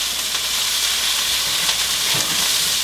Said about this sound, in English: we put in our garlic, onions, we're going to put a quick sear